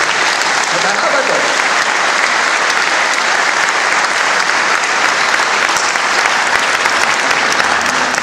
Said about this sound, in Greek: Το προφήτη Αγίου χειροκροτείτε.